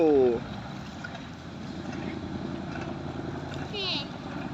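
A boat pulls away from the pier at Ko Loi park in the evening, its low engine rumble steady and growing slightly, with a voice and an adult's voice briefly over it.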